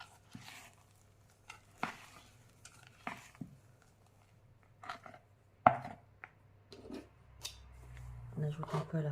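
Egg whites are folded into marble cake batter with a spatula, giving soft scraping and thudding strokes in an irregular rhythm, close and fairly quiet, with a brief louder knock partway through.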